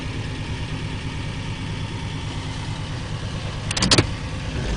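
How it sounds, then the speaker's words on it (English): A car rolls past on the road with a steady engine rumble, loudest near the end as it goes by close. "I've got a car coming up on me here, so I'm going to just let them roll by."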